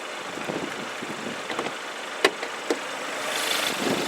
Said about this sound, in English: It sounds like a regular engine. But it is 2-liter clean diesel